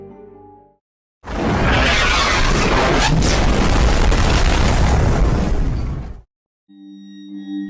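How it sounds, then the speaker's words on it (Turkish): Cannon fire pounding the Byzantine city walls: a single massive, loud boom swells into a sustained roaring rumble for about five seconds, then cuts off, with faint tonal sound before and after. "Toplar günlerdir Bizans surlarını dövüyordu."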